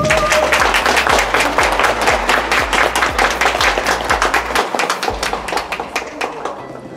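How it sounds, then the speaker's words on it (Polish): Spectators at a ski jumping competition applaud the athletes with loud, rhythmic unison clapping, joined by thumping beats that cut out briefly near the end before the clapping resumes and fades. "Brawa dla nich."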